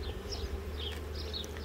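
Honey bees buzz steadily around an open wooden hive box during hive work, a continuous low drone with a few individual bees whining close by, faint and unbroken.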